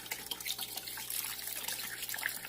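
Water pours steadily into a jug for growing phytoplankton, a soft continuous trickle and splash heard close up and fairly quiet.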